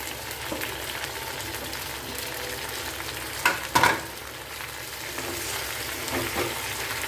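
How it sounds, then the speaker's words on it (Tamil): Onions and tomatoes sauté in a pan for a tomato, drumstick and mango curry, giving a steady, moderate sizzle with a couple of louder stirring scrapes midway. "நல்லா தக்காளி வதங்கி வரட்டும்"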